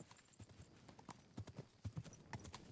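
Horse hooves clip-clop at a walking pace in the medieval game Kingdom Come Deliverance II, a quiet irregular run of soft thuds on a dirt path.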